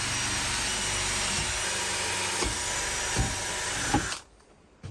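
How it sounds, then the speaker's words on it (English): An electric drill bores holes in metal brackets, its motor whining at a continuous, loud, steady pitch with a few knocks as the bit works, then cutting off abruptly near the end, leaving near silence. "that's where I'm going to drill my holes on both of them"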